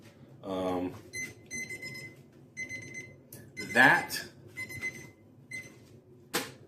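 An office timer sounds off in a series of short, bright electronic beep bursts that repeat at uneven intervals, with a person talking loosely around them.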